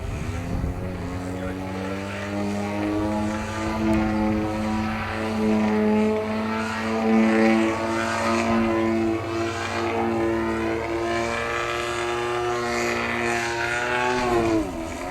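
An RC 3D model airplane engine buzzes through a flat spin down toward the ground, a steady loud droning whine with the pitch shifting as the plane rotates.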